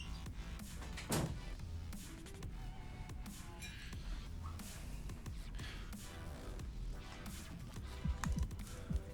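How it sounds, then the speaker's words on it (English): A cat steps across a computer keyboard, tapping out an uneven scatter of clicks and clacks, some in quick bunches and some spaced apart, fairly close and without speech. "Cat wants to play with the keyboard."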